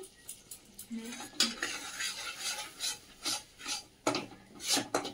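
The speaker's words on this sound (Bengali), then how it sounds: "এই যে বাটারের সাথে ময়দা দিয়ে ভালো করে আমি মিশিয়ে নিয়ে এই যে ভেজে নিয়েছি" Flour being stirred into melted butter in a hot pan for white sauce pasta, a spatula scraping and rasping against the pan in repeated strokes, close and fairly loud, with no talking.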